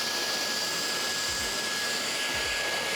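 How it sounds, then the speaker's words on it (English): Hair dryer on low heat blowing steadily and close while hair is wrapped around a round brush, a continuous airy whoosh throughout with faint brush handling. "The blow dryer is gonna be here. We're gonna get it to the ends, wrap, wrap, wrap, wrap, wrap, wrap. Blow dry."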